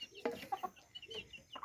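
Hens clucking at night as they settle to roost, a handful of close, soft clucks and murmurs at an uneven pace, heard alone with no voices.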